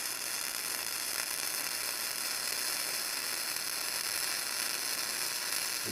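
A Lincoln 140 wire welder runs a steady MIG bead with about 3/8 to 1/2 inch of wire stickout, giving a continuous close crackling sizzle that holds unbroken for the whole stretch.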